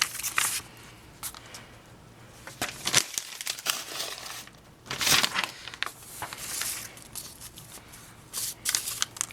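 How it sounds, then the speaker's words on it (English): Wet paper is shifted and pushed aside on a crafting table while making cards, giving irregular close crinkling and rustling bursts with short pauses between handlings and no speech. "Move my wet paper out of the way."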